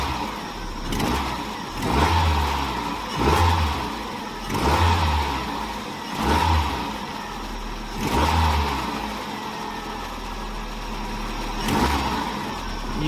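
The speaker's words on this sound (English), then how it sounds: "now what I'm going to do is I'm going to rev the engine" A car engine is revved repeatedly during a head gasket diagnosis, about six evenly spaced throttle blips rising and falling over a steady idle, close and moderately loud with no talk.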